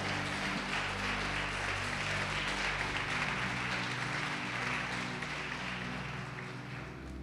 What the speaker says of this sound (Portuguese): Pode aplaudir o Senhor e glorificá-lo.